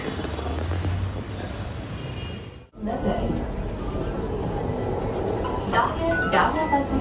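A Mumbai metro train bound for Versova rumbles steadily along with a constant broadband roar, briefly dropping out for a moment, then continuing with faint voices in the background.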